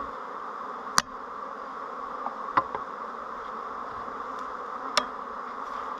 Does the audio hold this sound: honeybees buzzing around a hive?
yes